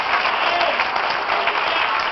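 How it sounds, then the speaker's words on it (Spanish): A church congregation at a Spanish-language worship service claps in steady, full applause for a couple of seconds, loud and close, with no talking over it. "Dale un aplauso, Señor"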